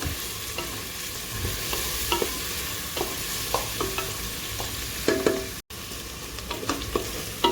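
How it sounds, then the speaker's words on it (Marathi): Onions frying toward golden brown for mutton biryani: a steady oily sizzle with periodic scraping strokes of a spatula stirring the pan, close and moderately loud, with a brief dropout in the sound midway. "कांदा आता गोल्डन ब्राऊन कलरचा होईपर्यंत तो चांगला असा भाजून घ्यायचा आहे"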